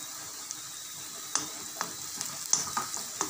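Turmeric and ginger-garlic paste sautéing in a pan, a soft continuous sizzle broken by scattered clicks and scrapes of stirring, close by with no voices.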